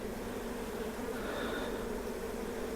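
Dense buzzing from a mass of honey bees, with drones among them, in an opened hive during a frame check, forming a steady, close, continuous hum.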